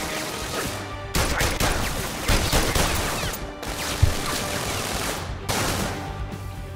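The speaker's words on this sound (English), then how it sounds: "I'm getting shot from so many directions" Rapid bursts of gunfire from a PlayStation VR Worlds diamond-heist shootout crackle almost nonstop, layered volleys coming from several directions with a sharp crack near the middle and no voices over them.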